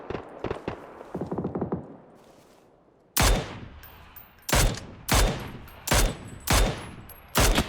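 Gunfire in the battle royale game PUBG: a few light distant shots, then loud repeated bursts of automatic fire in regular clusters, close and dominant, with no talking.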